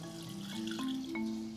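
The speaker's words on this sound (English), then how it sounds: "I'm going to add enough water to come about halfway up the volume of the beans" Water poured into a pot of green beans and tomatoes, a soft steady trickle with light splashy tones, fairly quiet and close, with no talking.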